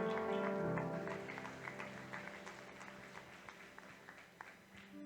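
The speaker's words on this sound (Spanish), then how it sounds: "Dele ese aplauso al Señor." Church congregation applauding during a Tuesday evening service: a sustained wash of clapping, strongest at first and gradually thinning and fading, with individual claps poking through near the end.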